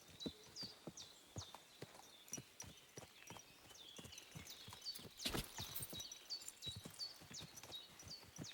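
Steady clip-clop of horse hooves at a walking pace in the video game Kingdom Come: Deliverance II, rhythmic and fairly quiet, with small chirpy game sounds over it.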